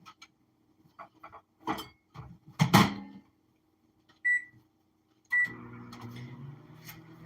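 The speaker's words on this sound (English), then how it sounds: "Use your microwave." Household microwave oven in a home kitchen: scattered clicks and handling knocks, a couple of short beeps, then the oven starts running with a steady low hum and whir, close and moderate.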